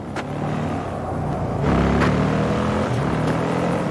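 Motorcycle engine rumbles and revs up as it pulls away, a steady loud drone rising in pitch partway through.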